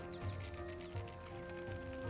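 Horse in Black Desert Online being tamed, with soft hoof clops and light horse sounds under a steady droning game music bed, fairly quiet and continuous.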